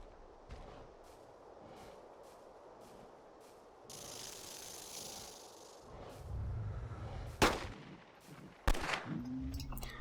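In the hunting game Carnivores: Dinosaur Hunt, a rifle fires two sharp, loud shots a little over a second apart, each with a short blast and tail, over low ambient outdoor noise and rustling.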